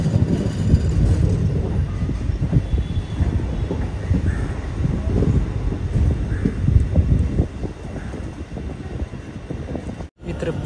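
The Parasuram Express runs on the line toward Ernakulam Town station, its carriage rumbling steadily with rhythmic wheel clatter and gusts of wind noise, the rolling sound easing slightly near the end.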